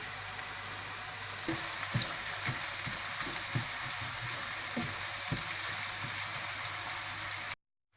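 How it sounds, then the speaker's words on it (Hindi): Onions frying in a pan for a white chicken korma, a loud continuous sizzle with occasional clicks of stirring, no talking, cutting off abruptly near the end. "प्याज को अगर आपने बहुत ज़्यादा फ्राई किया तो इसका कलर बहुत ज़्यादा ब्राउन हो जाएगा"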